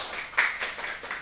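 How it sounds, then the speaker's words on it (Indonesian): A classroom claps for a student group: a short patter of hand clapping that swells and fades, with a brief sharper burst near the start and no voices over it. "Kita beri aplaus untuk kelompok 1"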